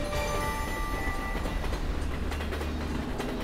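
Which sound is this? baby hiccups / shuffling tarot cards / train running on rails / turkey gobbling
train running on rails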